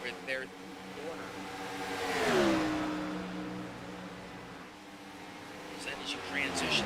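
Race car engines roar in a sim racing game at Kansas Speedway, a steady drone with one car's pitch sweeping past in the middle, quiet overall beneath a commentator's voice.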